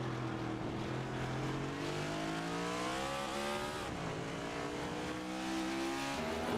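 Race cars roar past on the track during a Next Gen series race, a loud continuous engine drone with shifting, rising and falling pitch as several cars run close together near the end of the race.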